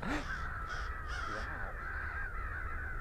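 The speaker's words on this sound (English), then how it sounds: "I've never seen crows like this." A flock of crows caws outdoors, several harsh calls overlapping at moderate distance over a steady background hum.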